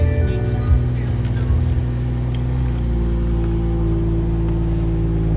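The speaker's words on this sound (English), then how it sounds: "So to start the car, you have a button right here. Push that button." A 2019 Porsche Cayenne or BMW X5 engine, started by push button, running as a steady low idle rumble with a brief rise in the first two seconds before settling into a smooth, even hum.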